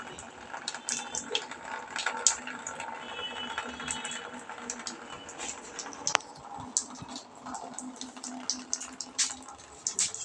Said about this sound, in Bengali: জলটা এখন আস্তে আস্তে পাইপে আওয়াজ হচ্ছে, দেখুন কুলকুল করে আওয়াজ হচ্ছে